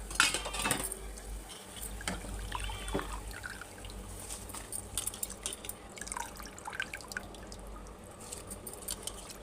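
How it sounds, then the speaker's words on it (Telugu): Raw rice pours into a cooking pot for pulao, a busy rattling patter of grains striking metal and liquid, with scattered clinks and small splashes over several seconds. "రైస్ వేసుకుందాం"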